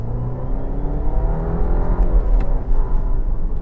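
A 2024 Jeep Grand Cherokee Limited engine revs hard under acceleration, a loud, steady drone with rising harmonic sweeps close to the microphone, and no talking.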